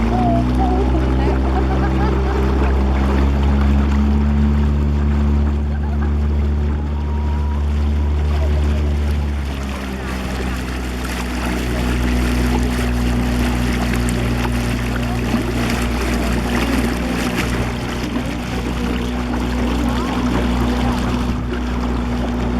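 A boat cruising on the Una river gives a steady engine rumble under continuous water rush and splashing, close and fairly loud throughout, with people talking faintly beneath it.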